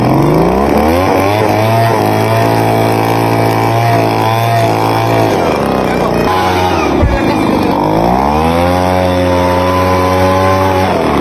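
A gas-powered air blower runs loud and close, its engine revving up and down in sweeping pitch changes, with a brief dip before climbing again.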